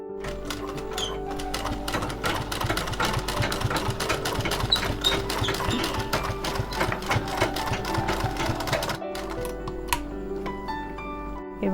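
A sewing machine runs steadily, its needle rattling rapidly as it stitches a small dress for a Laddu Gopal doll, pausing briefly before resuming at the same fast, even pace.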